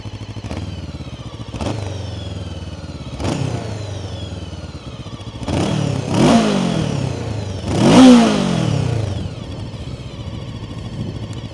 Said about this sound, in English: let's listen to the exhaust sound of the motorcycle